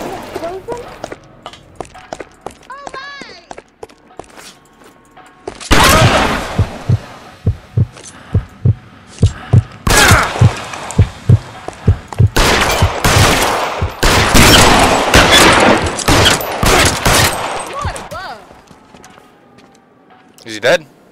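Bursts of gunfire from the L.A. Noire video game, loud sharp shots and rapid volleys clustered in the second half, with people talking over the action.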